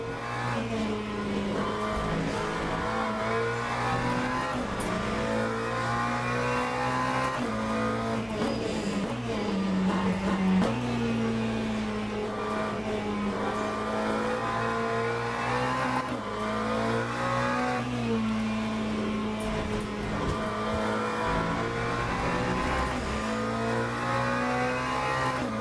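Race car engine in the sim racing game Le Mans Ultimate, a steady loud drone that rises through the gears with brief dips at shifts, running continuously throughout.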